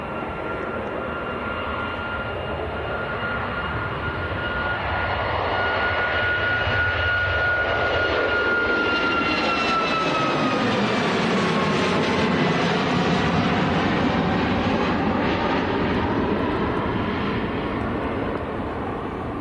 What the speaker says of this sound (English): Right, next to go, this is Ryanair to Faro.